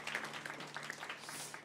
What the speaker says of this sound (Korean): 우리 하나님께 큰 영광의 박수 올려드리도록 하겠습니다